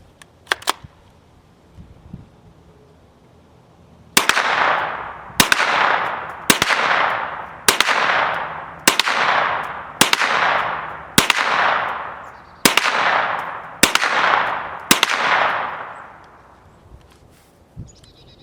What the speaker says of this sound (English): We're going to go ahead and just run some rounds through the regular 10-round clip